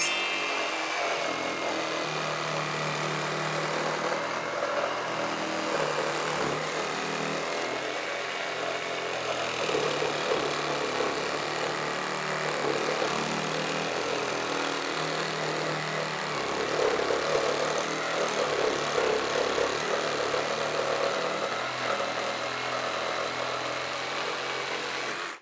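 Parkside Performance PSSAP 20-Li C4 cordless reciprocating saw fitted with a Milwaukee blade cutting through a construction beam, a steady buzzing motor whine with rasping blade strokes, continuous and fairly loud for the whole cut, with no talking.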